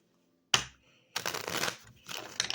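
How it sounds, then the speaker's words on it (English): Tarot cards are shuffled close up: a sharp snap, then a riffling burst and another softer riffle, with no talking. "We're going to shuffle again."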